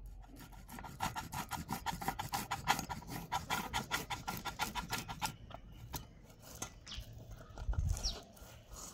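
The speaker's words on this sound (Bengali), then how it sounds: "আর এই আলুগুলোকে এবার আমি গ্রেট করে নেব" Boiled potatoes being grated by hand: quick, rhythmic rasping strokes for about five seconds, then slower, irregular scrapes and a soft thud, close and fairly quiet with no talk.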